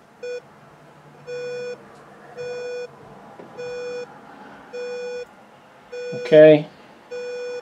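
Pulsing audio tone from an Arduino Nano pulse induction metal detector with a target presented: a steady high beep repeating about once a second, with a brief spoken word over one pulse.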